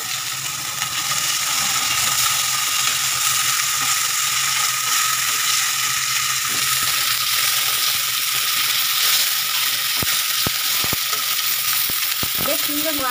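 Amudi fish frying in oil in a pan, a loud, continuous close-up sizzle and crackle that holds steady throughout, with a few faint knocks near the end.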